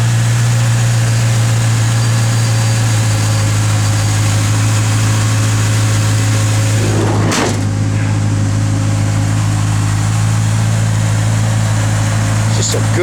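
A 1953 Chevrolet 3100 pickup truck with a 350 engine idles steadily and smoothly, a close, constant low drone with a brief rise partway through and no talk over it.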